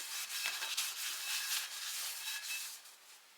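A towel rubbed and wiped across the inside of a freezer to dry it after cleaning, giving close, continuous scrubbing swishes with short rhythmic strokes.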